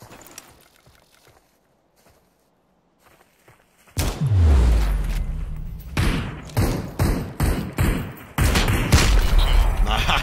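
Gunfire from the video game Super People: near silence with a few faint clicks, then loud bursts of rapid shots in clustered volleys with heavy low booms.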